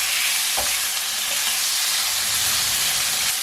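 Chicken for homemade shawarma, seasoned with soy and chili sauce, sizzles loudly and steadily in a hot pan while being stirred, with a soft scrape of the utensil partway through.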